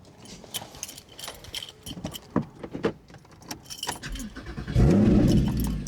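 Keys jangle and rattle with light clicks and movement, then a Porsche GT4 engine, already warm, cranks and fires up into a loud, deep, throaty rumble near the end.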